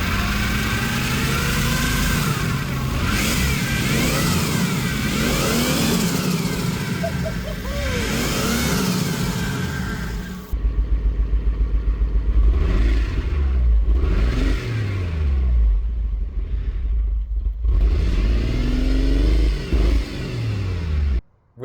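An old 1980s turbocharged Toyota Supra with a rusty, long-neglected engine cranks and catches, then revs repeatedly in sharp rising bursts, loud and close, with rough idling between blips before cutting off abruptly.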